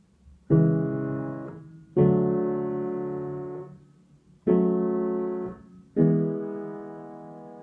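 Piano chords in a steady repeating offbeat pattern: four sustained, ringing chords, each struck and left to decay before the next, played alone.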